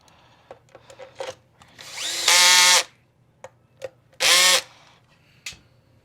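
Power drill driving long screws into a Kirby Sentria vacuum during teardown, two loud whirring bursts of about half a second each, separated and surrounded by light clicks and handling taps.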